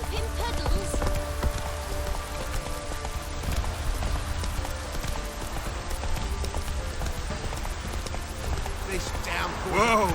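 A heavy downpour in The Witcher 3: Wild Hunt forms a dense, steady hiss of rain, mixed with hoof-like clopping and other game sounds, with voices faintly underneath.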